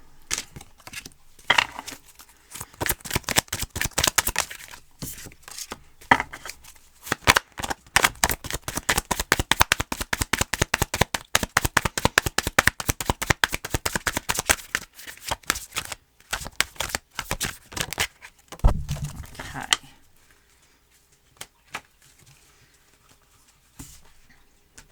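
Tarot cards shuffled by hand in quick, dense riffling bursts that run for most of the stretch, loud and close, then trail off into near silence at the end.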